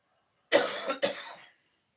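Two sharp coughs in quick succession, close and fairly loud, then silence.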